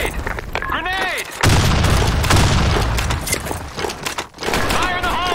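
A grenade goes off in the online shooter Blackshot, a loud broad blast that swells and lingers amid gunfire, with a voice calling out and chirpy sound effects before and after.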